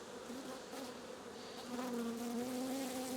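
A honeybee swarm buzzes steadily at the hive during a swarm catch, a dense, close droning hum that grows louder and fuller partway through, with no voices.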